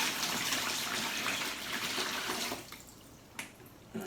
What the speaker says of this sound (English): I will pour water in it till I get about 1 inch or so of water in the bottom of this box here.